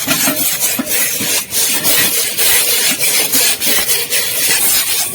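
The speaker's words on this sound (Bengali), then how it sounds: "এভাবে মুড়িটা ঢেলে দিয়ে এটাকে নাড়তে হবে" Puffed rice (muri) stirred through hot sand in a pan, giving a steady, loud gritty scraping and rustling with rhythmic strokes throughout, no talking.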